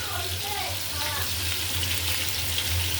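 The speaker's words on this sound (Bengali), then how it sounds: "আমি দিয়ে দিতেছি কড়ার ভিতরে পেঁয়াজ কুচি, সাথে দিয়ে দিলাম রসুন কুচি, আর কয়েকটা কাঁচামরিচ" Chopped onion, garlic and green chillies sizzle steadily in a hot wok, a continuous close frying hiss with a low hum beneath it.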